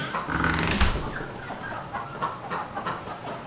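Several ducks on a farm give rapid, close quacks and clucking calls in a busy overlapping burst.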